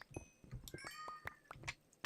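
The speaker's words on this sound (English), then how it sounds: "can anyone hear my cat meowing in the background?" A pet cat meows and grumbles indoors in several short, moderately loud calls spread over a couple of seconds, with a few soft clicks between them.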